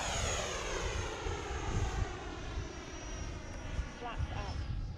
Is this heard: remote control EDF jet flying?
yes